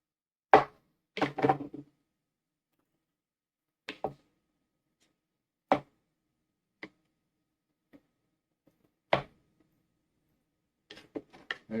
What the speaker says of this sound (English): We'll start cutting it up, chopping it in smaller pieces